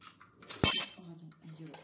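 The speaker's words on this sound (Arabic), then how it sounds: "نحاول نحركو بزاف" A spoon stirs a cake mixture in a pot, giving one sharp metallic clink followed by faint scraping, quiet and brief.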